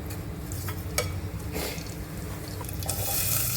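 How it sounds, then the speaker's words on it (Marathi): Mustard seeds and a little cumin dropped into heated oil for tempering, crackling and sizzling close by with a few sharp pops and stirring clinks, growing slightly louder toward the end. "आता दोन पळी तेल घेते तेल तापले आहे फोडणीसाठी राई थोडेसे जिरे"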